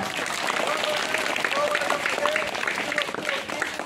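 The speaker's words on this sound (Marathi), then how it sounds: "टाळ्या वाजवा." Schoolchildren in a classroom clap their hands together, a dense, lively burst of applause that continues throughout.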